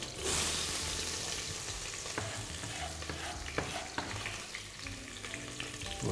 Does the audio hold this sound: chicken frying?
yes